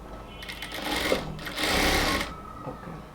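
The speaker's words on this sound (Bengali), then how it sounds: "এবার পুরোটাকে এভাবে ধরে উপর থেকে নিচ পর্যন্ত আমরা সেলাই করে নেব।" A sewing machine stitches a border strip along a blouse in two short runs of steady, close whirring, separated by a brief pause and fading to quiet afterward.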